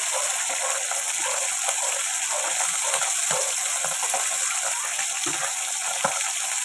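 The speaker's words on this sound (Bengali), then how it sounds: "একদিকে মাছ ভাজি আর একদিকে পুর ভরছি দেখো" Large pieces of fish fry in oil, giving a continuous bright sizzle with small pops and crackles scattered throughout, close by and steady, with no voices.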